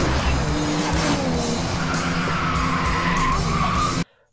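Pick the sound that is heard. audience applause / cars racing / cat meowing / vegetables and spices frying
cars racing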